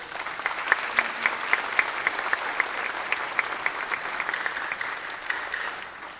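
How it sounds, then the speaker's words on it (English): Applause from a school audience at a high school jazz band spring concert, a steady wash of many hands clapping at moderate distance, with a few sharper individual claps standing out, continuous for about six seconds. "Round of applause for her."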